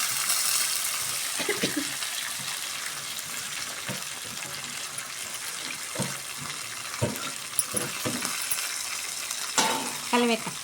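Chopped ivy gourd (dondakaya) frying in a home pan for a stir-fry, with a steady sizzle and occasional stirring clinks and scrapes throughout, close and moderately loud.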